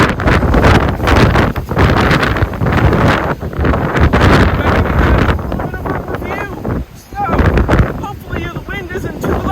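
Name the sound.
wind blowing during blizzard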